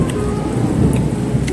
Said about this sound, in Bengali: আমরা দোকান দাঁড়িয়ে আছি কারণ বাইরে বৃষ্টি পড়ছে